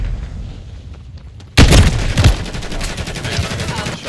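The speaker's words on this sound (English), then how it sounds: "I got one shot to get her and I missed" A single loud gunshot fired at an enemy in a video game, with a sharp onset after a quieter stretch and a rumbling, echoing tail that fills the rest of the moment.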